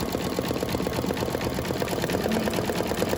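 An embroidery machine stitches an outer ring around a St. Patrick's Day coaster, a steady, rapid mechanical whirring and clattering of the needle that runs on without a break and without talk.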